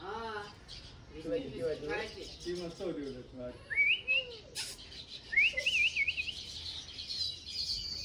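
Birds chirp and whistle in short bursts and rising calls, mixed with a person's voice talking quietly nearby.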